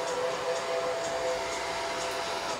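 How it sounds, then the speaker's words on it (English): A hair dryer runs with a steady, close, even blowing whoosh and a faint whine, held constant and uninterrupted for a few seconds with no speech over it. "There is my hair dryer."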